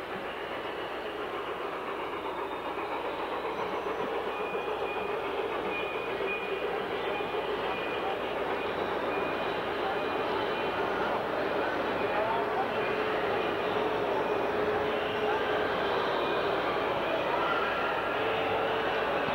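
An LGB large-scale model train, a Rio Grande switcher, runs along a garden layout track near a passing siding, giving a steady, continuous rolling rumble with faint clicking throughout. A voice talks over it.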